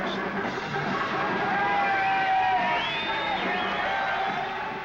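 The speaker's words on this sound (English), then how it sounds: "The crowd grows." A crowd of 1967 hippies in a San Francisco street, whooping, cheering and shouting together in a lively, rising wave, with several voices calling out over the steady crowd murmur.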